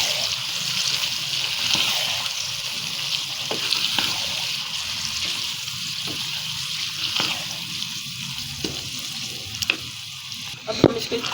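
Turnips and boiled meat (gosht) sizzling and frying steadily in a pot, with a continuous close hiss broken by occasional stirring clinks and small pops, no voices.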